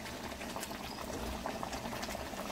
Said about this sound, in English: let it simmer in a medium heat